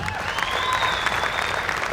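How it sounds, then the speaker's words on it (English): Spectators applaud at the 2017 Lancaster Archery Classic women's recurve finals, a steady crowd clapping as an archer is introduced, with an announcer's voice and a faint whistle-like tone over it. "let's have a big round of applause"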